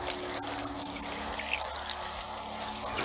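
Water pours steadily from a portable shower hose warmed by the sun, a continuous close hiss and trickle with no talk.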